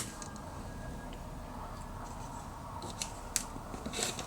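Quilting fabric for patchwork is cut with a fresh new blade, a steady close scraping hiss with a few brief sharp clicks near the end, heard alone without talk.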